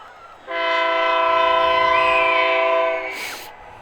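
A passing train sounds a long horn blast beside a baseball park. It starts abruptly, holds steady and loud for about two and a half seconds, then fades, with no one talking over it.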